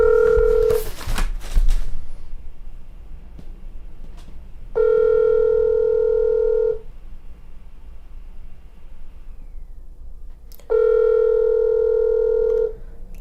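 Telephone call tones, two long steady dual-tone bursts several seconds apart after a brief clatter at the start, like ringback while calling Spencerville, Ohio city hall; clear and close with no talk.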